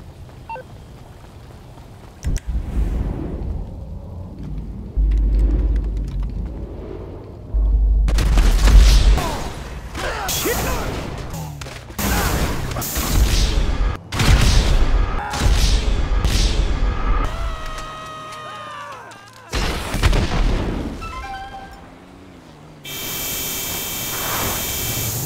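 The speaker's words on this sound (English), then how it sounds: "Hey, stop shooting rockets at my crib!" Rocket explosions striking a house in GTA 5, several heavy booms and crashing blasts spread across the stretch, separated by quieter gaps and debris noise, with no talk.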